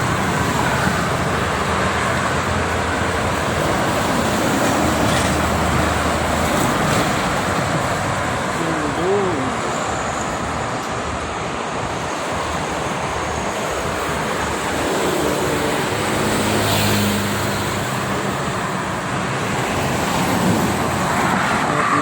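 Steady roar of traffic on the Jakarta-Cikampek toll road in the late afternoon, with tour buses and sleeper-class coaches passing, a continuous broadband wash of engines and tyre noise, fairly loud and without talk.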